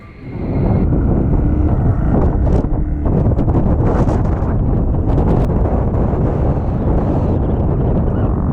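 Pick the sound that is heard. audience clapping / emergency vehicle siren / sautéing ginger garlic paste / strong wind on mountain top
strong wind on mountain top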